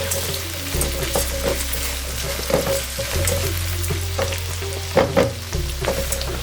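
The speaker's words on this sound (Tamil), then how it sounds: "இந்த வெங்காயம் நல்ல டார்க் ப்ரௌன் கலருக்கு வரணும், அந்த அளவுக்கு இதை வதக்குங்க." Onions with a pinch of rock salt sauté in a pan, a steady close sizzle broken by repeated scraping strokes of a spoon, under a low constant hum.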